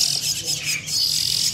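Oriental magpie-robin (kacer) chicks give high, busy chirping and squawking close by, a continuous twittering cluster with a faint voice underneath.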